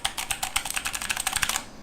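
Fast, crisp clicking of an affordable, non-backlit mechanical gaming keyboard with clicky switches, close and loud, a rapid even run of keystrokes with no talking.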